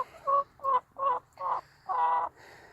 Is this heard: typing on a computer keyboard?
no